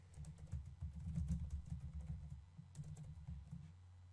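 Fingers patter across a computer keyboard in a quick, continuous run of soft clicks, steady and close with no voice over them.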